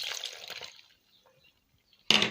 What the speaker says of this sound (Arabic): دلوقتي هننزل بقى الميه بالخميره